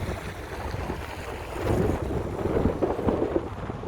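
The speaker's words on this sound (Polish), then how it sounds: "Trochę wiatr, jest zimno." Strong, cold wind buffets the microphone in a continuous roar in snowy Reykjavik, Iceland, growing gustier toward the middle and staying loud throughout.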